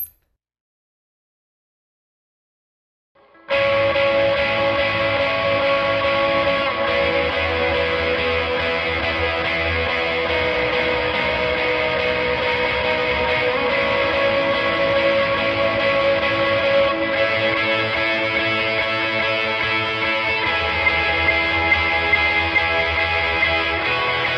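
Electric guitar played with two overdrives, lush dotted-eighth delay repeats and reverb, sustained and loud after a brief silence, no talking.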